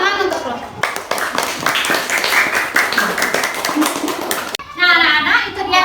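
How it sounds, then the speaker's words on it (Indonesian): Children clap together in a classroom after a group presentation on magnets, a dense burst of hand claps running under a teacher's talking, with more speech near the end. "Ya, tepuk tangan untuk lo."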